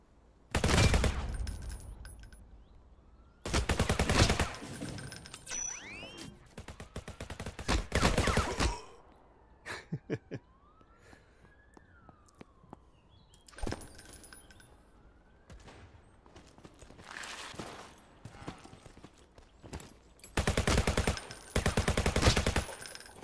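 Gunfire in the fast-paced VR shooter game Alvo on Meta Quest 2 comes in loud rapid bursts and fusillades, separated by quieter gaps, with a few sweeping game sound effects between the volleys.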